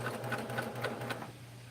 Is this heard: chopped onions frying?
no